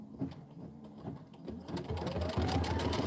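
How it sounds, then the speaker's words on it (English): An embroidery sewing machine runs a placement stitch, a steady mechanical whirr that builds louder and denser over a few seconds, close by and without talk. "So I'm going to do my placement stitch."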